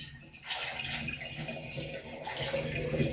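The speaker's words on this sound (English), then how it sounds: "we're going to start first of all by putting our pineapple syrup mixture in first" Pineapple syrup mixture poured into pomegranate wine during one-gallon home winemaking, a steady gushing liquid stream running close and continuous for a few seconds.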